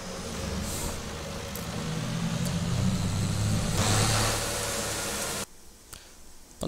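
An old Swaraj combine harvester engine in Farming Simulator 22 drones steadily with a low throbbing hum and rising revs, loud and close, then drops abruptly to a quieter idle near the end.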